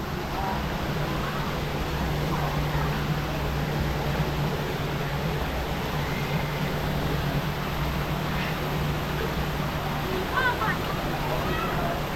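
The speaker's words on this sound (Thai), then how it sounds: "โอ้น้ำตก น้ำตก" A waterfall at the Ramayana water park in Pattaya, a dense, constant rushing roar of falling water heard up close for the whole stretch, with people speaking faintly over it.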